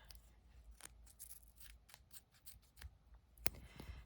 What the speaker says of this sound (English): And there's my scissors.